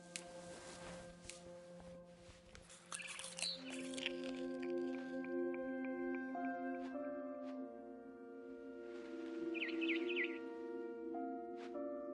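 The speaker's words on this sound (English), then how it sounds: "Then I heard chirping outside my window. It was a barn swallow going back to her nest." In the video game What Remains of Edith Finch, a barn swallow outside a window gives two brief bursts of high chirping, soft and somewhat distant, set against sustained tonal music and low ambient sound.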